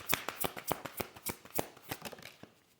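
Angel oracle cards being shuffled close up, a run of crisp rhythmic riffling slaps that gradually fades, with no voices.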